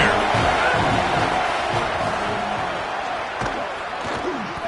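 Football stadium crowd at an FSU game roaring and cheering in a loud, sustained wash with whoops, cresting early and easing slightly, plus a sharp slam-like hit partway through; some talk mixes in.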